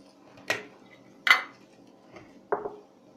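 Dishes and utensils clink three or four times in a kitchen as cucumbers, carrots and peppers are mixed for pickling jars, sharp close knocks spaced under a second apart with quiet between.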